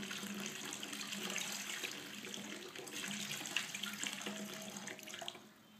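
Water pours steadily into a glass holding an egg, a continuous close splashing stream lasting several seconds before tapering off at the end.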